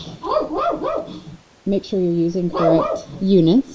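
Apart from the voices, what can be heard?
dog barking at a squirrel in the yard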